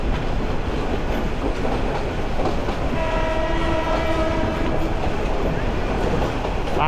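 A large train rolls past near Chattogram University, a steady roar of wheels and carriages with a sustained horn blast sounding midway, loud and close throughout.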